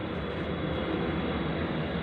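An airplane passing overhead gives a steady, loud, broad roar that holds without a break, with no voices over it.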